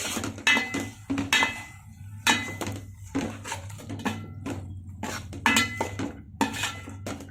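A spoon clinks and scrapes against a metal cooking pot as spices are stirred for a country chicken biryani, with a steady series of bright close knocks and clatters over a low background hum.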